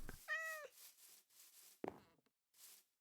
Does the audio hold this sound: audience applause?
no